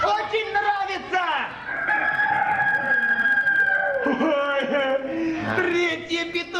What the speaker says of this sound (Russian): Третьи петухи прокричали!